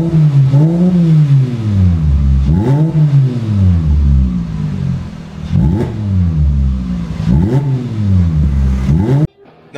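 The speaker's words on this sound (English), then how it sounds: "it does make your car or your Jetta sound like a Lamborghini" A modified Volkswagen Jetta (Mk5 or Mk6) engine revs hard several times in a row, each rev swelling and dropping away, loud and close, before cutting off abruptly.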